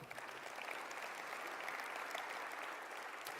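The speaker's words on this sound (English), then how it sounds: "You can clap." An audience applauds at a mayor's State of the Community address in Macon-Bibb County, a steady wash of many hands clapping, fairly distant and even throughout.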